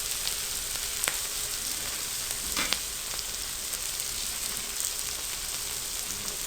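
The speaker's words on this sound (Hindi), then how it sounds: "अब आपने सिर्फ चंद सेकंड के लिए मिर्चों को फ्राई करना है।" Chilies, peas and potatoes fry in a hot pan, a constant bright sizzle with a few sharp crackles and pops; no one talks.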